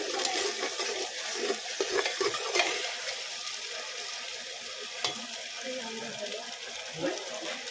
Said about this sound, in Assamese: লৰাই দিছোঁ